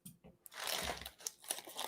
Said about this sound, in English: Okay, so we're going to open this bag.